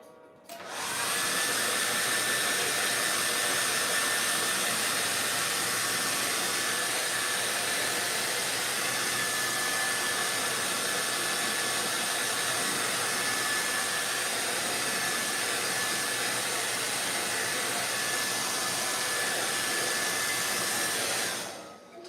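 A hair dryer runs continuously for about twenty seconds to dry fresh paint before an underpainting, with a steady close whooshing roar and a faint high whine, starting and stopping cleanly.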